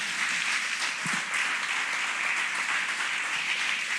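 Church congregation applauding in an offering of praise during a sermon, a steady, continuous roar of many hands clapping, full and unbroken, with no talk over it.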